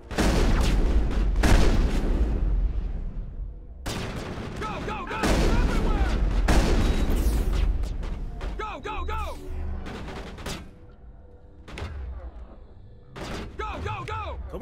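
Repeated heavy shotgun blasts in Mass Effect 1 combat, loud booming bursts in several clusters with sharp echoing tails, mixed with game effects and weapon clatter between shots.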